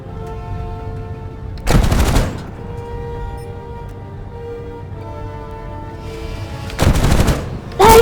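Aircraft guns firing in the War Thunder flight game: two loud, dense bursts of rapid automatic fire, each lasting about a second, over a steady engine drone, with a short third burst at the very end.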